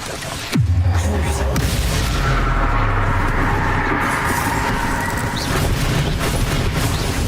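A Bombarda blasting spell in Hogwarts Legacy, played on Switch, goes off as one loud boom that rolls into a long rumbling tail of falling debris lasting several seconds.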